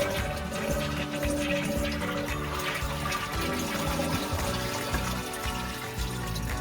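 Toilet bowl refilling after a Fluidmaster fill valve replacement, a steady close rush of running water that holds at an even level throughout without pause.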